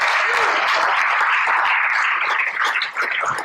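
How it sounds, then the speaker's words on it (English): Audience applause at a conference panel on AI at an education technology symposium, a dense, steady wash of clapping filling the room for a few seconds without pause. "let's give a round of applause."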